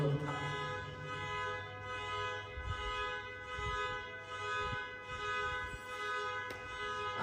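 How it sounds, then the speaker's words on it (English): Vehicle horn honking outside during an indoor yoga session, a long, sustained, tonal blare that pulses in loudness across several seconds, heard from a distance with some low background rumble. "might be you are listening some honk, so this is from outside"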